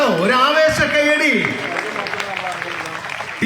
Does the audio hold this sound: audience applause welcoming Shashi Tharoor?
yes